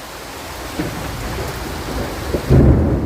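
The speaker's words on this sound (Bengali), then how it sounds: "বৃষ্টি পড়া শুরু হয়েছে, এক্ষুনি ঝেঁপে বৃষ্টি আসবে, খেয়াল করে দেখুন।" Thunder rumbles over steady rain on a cucumber field, with low booms near 0.8 s and a louder roll from about 2.5 s; no voices.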